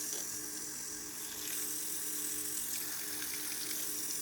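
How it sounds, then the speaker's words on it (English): Tap water running steadily to rinse soap from makeup brush bristles, a continuous close hiss of flowing water with no talking. "Now I'm going to rinse off the bristles"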